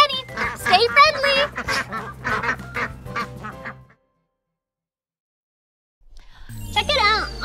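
Cartoon ducks quack in a lively run of nasal bursts, go silent for about two seconds, then quack again, with childlike voices mixed in.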